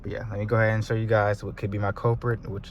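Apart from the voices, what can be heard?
No everyday noise stands out behind the speech.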